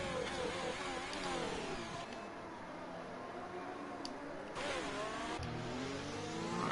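A Renault Formula 1 car on track at Circuit of the Americas, its engine revving and shifting through rising and falling pitch, heard steadily from close on board at moderate loudness.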